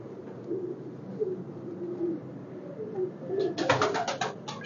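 A pigeon coos softly in low murmuring phrases, followed near the end by a sharp burst of rapid clattering.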